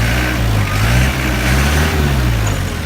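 A forklift sitting in neutral revs its engine steadily while the forks are raised, a loud, close, continuous mid-pitched drone with slight swells in throttle and no talk over it.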